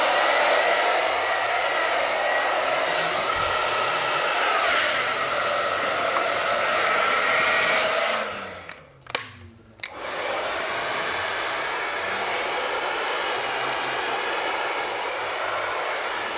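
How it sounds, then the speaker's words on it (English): A hair dryer blows steadily and close while hair is wrap dried with a brush in a salon stage demonstration, the airflow cutting out briefly for a moment before resuming just as strongly. "So Rich, when it comes to wrap drying, is this your go-to brush?"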